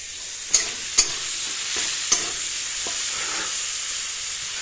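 Fish frying in a pan makes a constant close hiss and sizzle, with a few crisp taps of a spatula scattered through the first half. No voices are heard.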